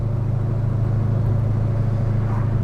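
A 1972 Chevrolet Chevelle SS 454-style car cruising on the road, heard from inside as a loud, steady, low engine rumble with a constant whirring drone and no talking.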